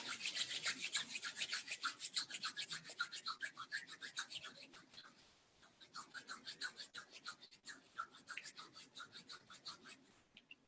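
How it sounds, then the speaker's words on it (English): Two hands rub briskly together during a quiet yoga session, a soft, rhythmic series of dry swishing strokes in two runs split by a short pause. "Take your hands, rub them, create some internal heat."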